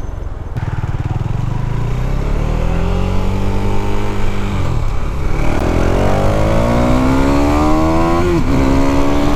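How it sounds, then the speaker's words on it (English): A KTM 390 Duke single-cylinder motorcycle revs hard and accelerates for a wheelie, engine pitch climbing through gear changes with a brief dip between shifts, loud and close throughout. "Let me see if I can get a good wheelie in up here."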